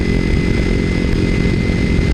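Kawasaki Ninja 300 fitted with a Screaming Demon exhaust, heard while riding: a loud, constant, close engine drone held at steady revs, with no speech.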